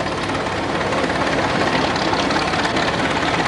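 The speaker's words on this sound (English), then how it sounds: "We have a 1914 Russell steam traction engine. We cannot stop this." A 1914 Russell steam traction engine, a 90-horsepower model, runs in an antique farm fair parade, its steady broadband mechanical roar continuous and fairly loud, with no voices over it.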